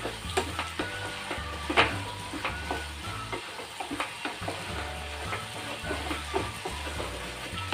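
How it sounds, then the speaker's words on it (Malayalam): Ingredients with green chillies sautéing in a pan for a wheat-flour snack, a steady close sizzle with frequent scraping stir strokes and light clinks throughout, no talking. "ഇതിൻ്റെ ഒരു പച്ച മണം പോകുന്നവരെ ഇതിലേക്ക് ഒന്ന് താളി വരുന്നവരെ നമുക്കൊന്ന് വഴറ്റി കൊടുക്കാം"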